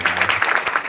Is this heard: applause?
yes